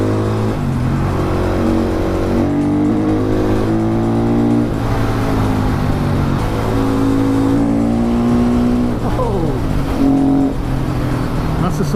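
A KTM 500 EXC supermoto on its standard exhaust revs and climbs through the gears in repeated rising pulls, loud and close throughout, with wind noise from riding.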